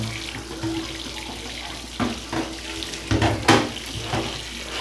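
Tap water runs steadily into a sink while a Sega Master System console is rinsed under it, a loud continuous splash broken by a few sharper clatters and knocks near the end.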